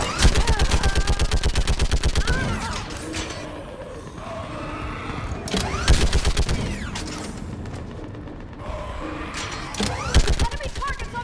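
Sustained automatic gunfire in the video game Mass Effect 3 during a battle on Thessia, loud rapid-fire bursts with rattling shots and heavy impacts, mixed with combat noise and voices shouting under the fire.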